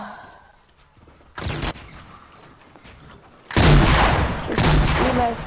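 Gunfire in Fortnite: a short burst of shots, then a pause, then a longer, louder volley close by, with sparse quiet background between.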